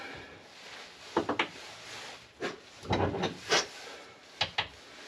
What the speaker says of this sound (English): I'm using what's called a bottom tap, which is flatter on the tip so that you can drive further down into something